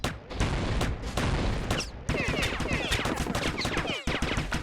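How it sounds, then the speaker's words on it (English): Rapid gunfire bursts in the video game Broforce with the character Double Bro 7 crackle loud and dense, volley after volley, with short gaps between them. "they might not realize you're shooting them if they don't see you"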